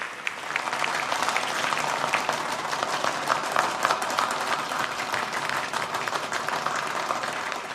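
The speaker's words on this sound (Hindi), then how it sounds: "कृपया इन बच्चों के लिए तालियां जोर से बजाइए।" An audience at the Maheshwari Pragati Mandal annual function and prize distribution in Mumbai applauds students receiving medals, producing energetic, continuous clapping from a large crowd with individual sharp claps standing out.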